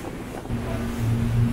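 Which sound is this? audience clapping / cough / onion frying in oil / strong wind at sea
strong wind at sea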